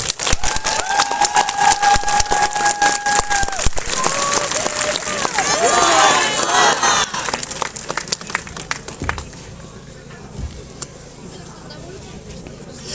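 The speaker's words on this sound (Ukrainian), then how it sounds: "Прошу привітати оплесками" A crowd at a public gathering outside an Orthodox cathedral in Khmelnytskyi claps loudly and densely for several seconds, then the applause thins into scattered claps and fades toward the end.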